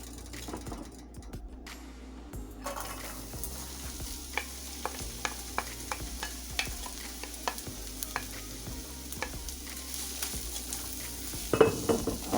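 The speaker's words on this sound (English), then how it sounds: "I'm going to go ahead and add in my mushrooms and onion so they can go ahead and saute and cook down a little bit" Mushrooms and onion sauté in about a tablespoon of oil in a pan with a steady close sizzle. Regular scrapes and taps of a utensil against the pan run throughout, with a louder clatter near the end and no voices.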